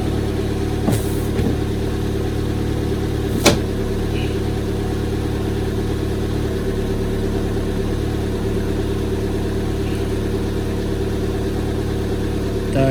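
A Daewoo Lanos that has not been started for a long time idles with a steady, loud engine drone throughout, broken by two brief sharp clicks or knocks near the start.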